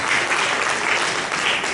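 A church congregation applauds during a Spanish-language sermon, a loud, dense, continuous wash of clapping that holds steady throughout with no pauses.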